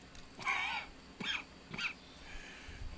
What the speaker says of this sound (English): That's quite a cough.